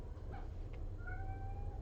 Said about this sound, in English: My cats get very sad if I'm in a room that they're not in. You can hear them out there being sad.